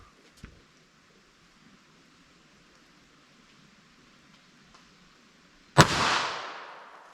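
A .32 ACP Kel-Tec pistol with a 2.7-inch barrel fires one 71-grain full metal jacket round into ballistic gel. It comes as a single loud, sharp report with a long ringing decay, after a stretch of near silence and a faint earlier click.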